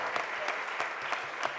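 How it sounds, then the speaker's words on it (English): A round of applause from the audience at a mayoral budget press conference, steady dense clapping with a few louder swells, moderately close, brief and without speech. "just give him a round of applause"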